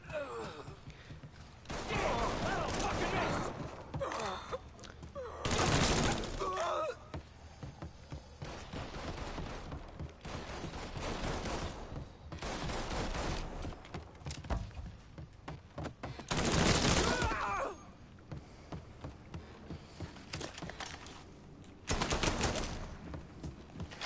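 Mafia 3 video game combat with pistol gunfire: repeated sharp shots and bursts over a dense, busy game soundscape with grunts and background noise.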